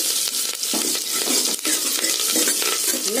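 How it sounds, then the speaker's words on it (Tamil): Cumin seeds and curry leaves sauté in a pan with a bright, steady sizzle, while a utensil stirs and scrapes against the metal in irregular strokes close up. No one speaks. "சீரகம் கொஞ்சம் போட்டு நல்லா வதக்கி விடுங்க. நல்லா சிவப்பா ஆகிற மாதிரி வதக்கி விடுங்க."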